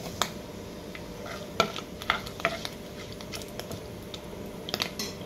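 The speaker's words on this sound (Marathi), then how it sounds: "हे मसाले थोडेसे फ्राय करून घेऊया।" Whole cloves, pepper, cinnamon, cardamom and bay leaf fry in a pan with a soft, faint sizzle, broken by scattered light clicks and scrapes of a spoon stirring.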